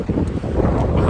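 Strong wind buffeting the microphone outdoors on a beach, a constant low rumbling roar with gusty fluctuations and no speech.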